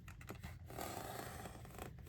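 Scissors snipping through paper photos for a Tree of Life theme park craft, a steady close crunching cut running about two seconds without a break.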